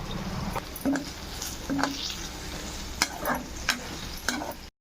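Potato fry seasoned with salt and turmeric stirred in a pan, a soft sizzle under repeated scraping strokes of a spoon against the metal, close and fairly loud.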